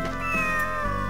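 A cat meows once inside a video game, a short close electronic-sounding call set over steady game background music.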